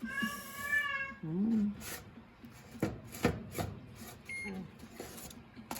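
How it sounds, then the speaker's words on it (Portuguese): A house cat lets out several clear, drawn-out meows near freshly baked hot bread, with a person talking intermittently and light kitchen knocks and rustles between the calls. "Nós temos um gato aqui que, nossa senhora. Ele tá sentindo o cheiro do pão."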